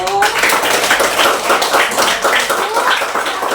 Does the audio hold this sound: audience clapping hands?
yes